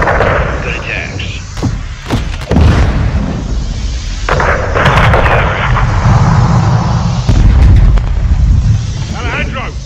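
Modern Warfare 2 combat with dense, loud gunfire: rapid automatic bursts and heavy booming shots overlap continuously, while voices speak intermittently under the shooting.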